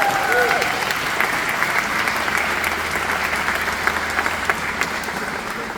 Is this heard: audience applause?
yes